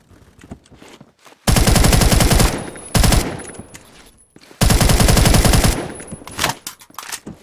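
Type 20 automatic gun firing in Phantom Forces: three loud sustained bursts of rapid evenly spaced shots, separated by quieter gaps with scattered single shots and clicks.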